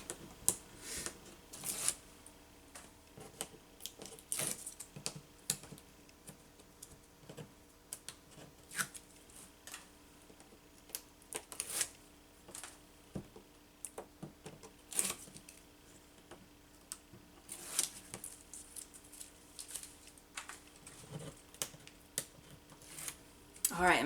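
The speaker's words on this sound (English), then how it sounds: "let's go ahead and burnish quickly this tape. And then we'll remove the backing." Score tape on a mini album base is burnished and its backing peeled off, giving scattered dry rubbing, scratching and crinkling noises. They come as irregular close taps and scrapes, fairly quiet, with occasional peeling rasps.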